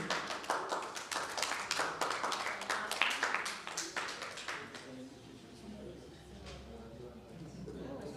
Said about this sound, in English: Can you clap for our friend?